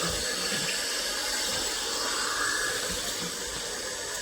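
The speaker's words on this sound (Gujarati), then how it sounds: "પાણી ભરવાનું ચાલુ છે." Tap water runs steadily while being filled, a continuous rushing hiss that holds at an even level throughout, with no voices.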